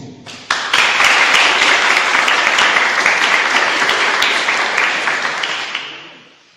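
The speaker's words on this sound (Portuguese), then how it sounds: "Se você crê, que você possa aplaudir o Senhor." A church congregation breaks into sustained applause, starting abruptly, holding loud and dense for several seconds, then fading away.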